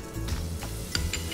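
Butter sizzles steadily in a pan for pav bhaji, with a close, continuous frying hiss broken by a few soft scraping stirs.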